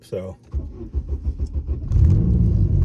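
Chevrolet Cruze converted to all-wheel drive with upgraded rear springs, shocks and fuel system, driving on a test run; a low engine rumble rises and grows louder as it pulls away, under someone talking.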